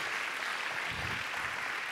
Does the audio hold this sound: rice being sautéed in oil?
no